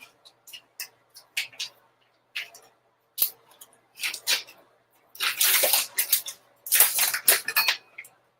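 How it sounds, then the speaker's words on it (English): Prosciutto is torn by hand for crostini in a kitchen: short, crisp ripping and crinkling bursts, sparse at first, then longer and denser tearing toward the end, close and clear with no talking. "I'm going to tear some prosciutto."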